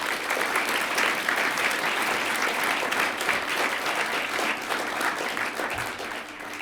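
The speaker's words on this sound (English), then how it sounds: "So if we can have a round of applause for all those names." Sustained applause from an audience at a university teaching awards ceremony, dense and even clapping that carries on steadily before tapering slightly at the close.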